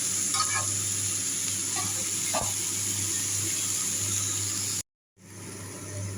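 Leafy greens stirred in a hot frying pan, a continuous close sizzle with faint scraping taps, which cuts out abruptly for a moment and then resumes more quietly.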